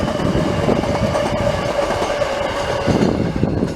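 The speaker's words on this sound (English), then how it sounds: "And that's the train going past." Train passing near Redwood Station, a loud continuous rumble and rattle of wheels on rails with a faint steady tone above, sustained throughout.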